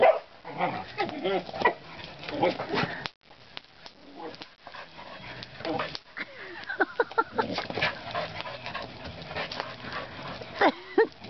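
A dog barks and yips excitedly in short, irregular bursts, with whimpering sounds and some distant voices in the background.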